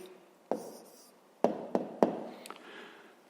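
Handwriting an answer for a fifth-grade math exercise: faint, close pen strokes punctuated by several sharp taps against the writing surface.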